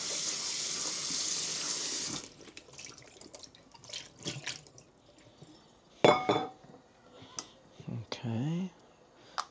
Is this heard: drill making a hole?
no